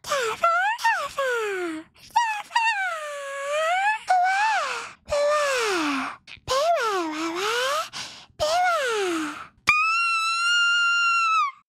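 A human voice imitates the Pokémon Bewear with a string of long, wailing, moaning cries that rise and fall in pitch and come in separate bursts, ending in a higher, steadier held tone.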